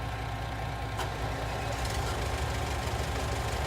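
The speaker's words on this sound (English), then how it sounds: "Start engine, please." A farm vehicle's engine idles steadily in Farming Simulator 19, a constant low rumble with a knocking texture at even loudness throughout, with no voices.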